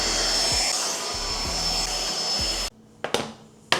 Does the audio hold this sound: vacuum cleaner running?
yes